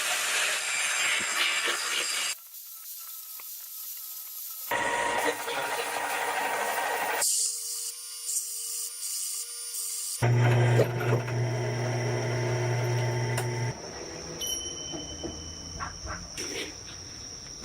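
A hand-made metal stay bracket for a Honda Super Cub is filed flat, giving repeated scraping, rasping strokes in separate close bursts, with a voice talking at times.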